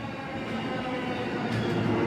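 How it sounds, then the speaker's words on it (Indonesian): A train arrives at Yokohama station with a continuous loud rumble of wheels and carriages on the rails, close by and growing slightly, with no talk. "jadi kali ini udah datang nih keretanya"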